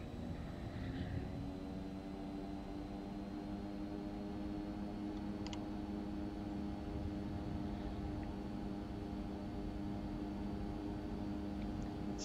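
Simulated turboprop engine of an Aerobask Epic aircraft in X-Plane 11 spooling up for takeoff, a steady droning hum with layered harmonic tones rising slightly in power, continuous and moderately loud, with a faint click or two.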